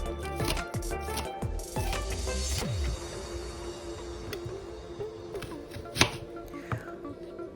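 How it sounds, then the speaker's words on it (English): Spring onions are chopped into small pieces with a knife, giving a run of crisp, irregular board taps that are dense at first, then sparser, with one sharper knock near the end. "Here I am chopping the spring onions into small pieces so we could add easily to our mixture."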